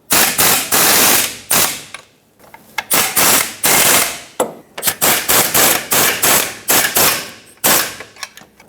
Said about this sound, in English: Let's snug up the bolts for this bracket here now.